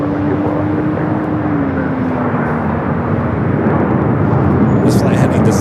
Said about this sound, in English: This flight heading to Salt Lake City is 737-800.